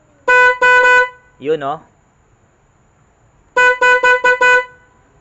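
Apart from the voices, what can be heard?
car horn honking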